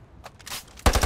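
Automatic AR-57 rifle fire in the shooter game Ironsight: after a few soft reload clicks, a loud, rapid burst of shots rattles out close up, with no speech.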